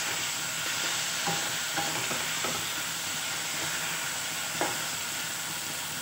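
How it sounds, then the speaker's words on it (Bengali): Chopped tomatoes sauté in oil with a soft, steady sizzle and hiss, broken by a few light knocks of a stirring spoon against the pan. "টমেটো দিয়ে আর কিছু সময় কষিয়ে নেব, যাতে টমেটোর কাঁচা গন্ধটা চলে যায়।"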